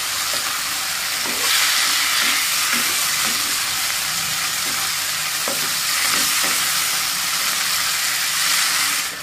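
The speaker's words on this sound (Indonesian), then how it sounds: "Diaduk-aduk." Spicy sambal with chicken liver and gizzard being stirred in a hot pan, a steady close sizzle and frying hiss with soft rhythmic scraping of the spatula, no voices.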